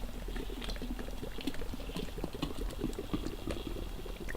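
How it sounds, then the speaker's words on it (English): Beer pours from cans into a giant cup with a continuous close gurgling, fizzy splash that runs steadily throughout, with no voices. "Here, I'll even pour them into this giant cup for you."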